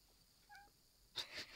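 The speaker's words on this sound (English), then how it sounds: "my cat just meowed" A house cat gives a faint, short meow in a quiet room, followed by a couple of soft rustling knocks nearby.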